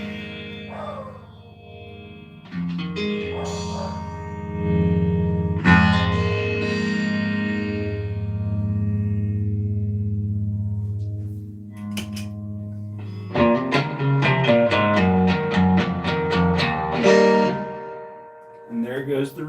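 Electric guitar chords and picked notes ring through a valve amplifier, trailing off with a spacious reverb wash; a strummed burst follows near the end.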